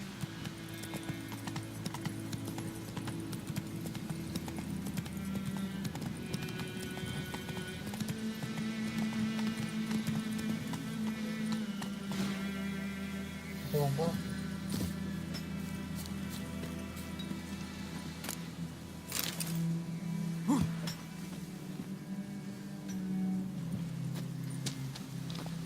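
Roach, the horse in The Witcher 3, gallops with steady rapid hoof clip-clop over a continuous game music and ambient bed, with a brief whinny-like accent midway; no talk.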